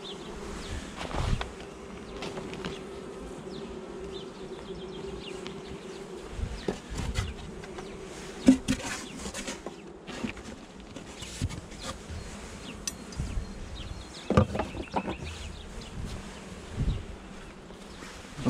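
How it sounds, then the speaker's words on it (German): A swarm of honey bees buzzes around a hive box in April, a steady close droning hum with individual bees flying past loudly now and then, and faint handling knocks of equipment. "Viel Spaß, liebe Bienen, in eurer neuen Kiste."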